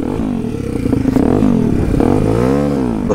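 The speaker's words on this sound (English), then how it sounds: "It's the best sounding standard pit bike I've heard." A Demon X 170 Detroit pit bike engine revs loudly and close by, its pitch sweeping up and down through several throttle blips over about three seconds with no talking.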